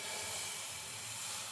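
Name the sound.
ladle of batter poured onto a hot pan, sizzling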